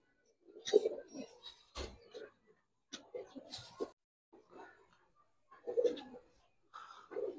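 Old-breed Giribaz pigeons coo in short bursts at a pigeon sale, close by and interleaved with someone talking.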